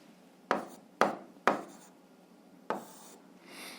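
Pen strokes write out an algebra expression on paper: four short, sharp scratchy taps with quick decays, then a softer rubbing stroke at the end, close and quiet with no talking.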